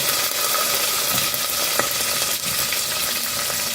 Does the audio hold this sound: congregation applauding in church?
no